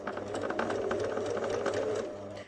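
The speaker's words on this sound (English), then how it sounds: "Now I'm sewing from N down to O with the sewing machine" A sewing machine stitches fabric for a toy bunny in a continuous close, even whirr that holds steady for a couple of seconds before stopping abruptly.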